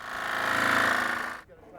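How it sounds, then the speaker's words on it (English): A jigsaw cuts a downspout opening in a metal gutter with a loud, rapid, rattling buzz that holds steady for over a second and then stops abruptly, leaving a faint tail. "cut the opening using a jigsaw"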